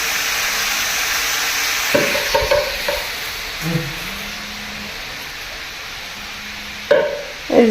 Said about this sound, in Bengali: ভাজা আলু ভাজি হবে